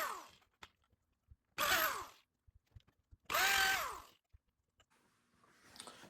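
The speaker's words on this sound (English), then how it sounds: "go ahead and drill the holes full depth for the lag screws" A power drill bores holes for 1/4-inch lag screws through a bracket on a wooden workbench top. Two strong bursts of whirring drilling each rise and fall in pitch, separated by quiet clicks and handling noises.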